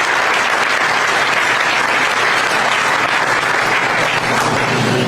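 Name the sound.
audience applause at VinFast factory groundbreaking ceremony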